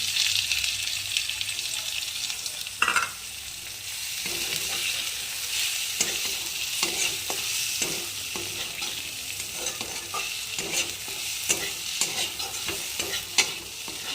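Fried potatoes being stirred into tomatoes in a frying pan: a continuous close sizzle with repeated spatula scrapes and knocks against the pan throughout, and no voices.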